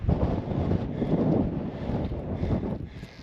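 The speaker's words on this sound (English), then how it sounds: "It's cold and windy up here." Cold wind sweeps across a desert mountain summit beside a cliff edge, a steady broadband roar buffeting the microphone for the whole stretch, close and fairly loud with slight surges and no voices.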